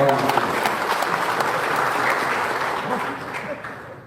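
A crowd at an Indonesian political declaration rally for someone's 2024 presidential run bursts into dense, sustained applause that slowly tapers off over a few seconds, with a voice speaking over it.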